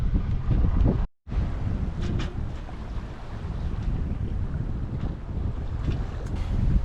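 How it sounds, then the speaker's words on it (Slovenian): Steady jugo wind roars across the microphone on a sailboat on the Adriatic Sea with a broadband rush, briefly cutting out near the start, with faint water and rigging sounds underneath. "se je malo sonce skrilo, oblačno ratalo, jugo piha"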